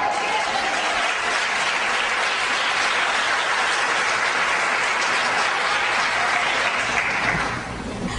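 Sustained applause from a church congregation fills the space at steady volume for about seven seconds, dense and broadband like rain, then quickly tapers off at the end.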